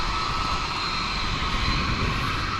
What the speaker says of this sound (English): We've got this A300 pulling in from Palm Beach.